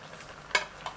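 Vegetables hit a hot pan for miki noodle guisado, giving a brief sizzling, stirring burst near the middle and a smaller scrape just after, over a low steady frying hiss.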